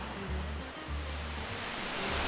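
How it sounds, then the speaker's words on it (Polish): The Caldeirao Verde waterfall in a Madeira forest roars steadily in a broad, continuous wash of falling water, with faint low voices murmuring underneath. "prezentuje się w pełnej krasie główny cel tej leśnej wędrówki, wodospad Caldeirao Verde"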